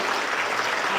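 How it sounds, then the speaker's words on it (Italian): An audience at a World Food Day event claps for the food heroes, a dense, steady wash of applause filling the whole second with no pauses. "A big round of applause for the food heroes."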